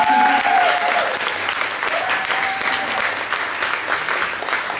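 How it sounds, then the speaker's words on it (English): An audience at a book award event applauds the honoree, a dense, steady round of clapping close by with a faint whistle or cheer at the start and a voice briefly audible underneath. "I think we should have another round of applause for Keely"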